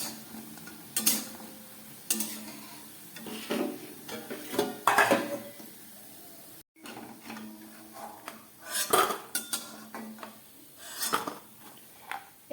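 Fried moong dal fritters are lifted out of the oil in a pan, with intermittent metallic clinks and scrapes of a utensil against the pan between quiet stretches, close by and without talk.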